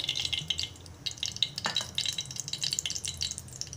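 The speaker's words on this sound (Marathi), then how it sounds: "आता मी थोडं तेल घालत आहे" Oil added to a hot pot on a gas stove, a soft steady sizzle and light crackle with occasional faint pot clinks, fairly quiet and without talk.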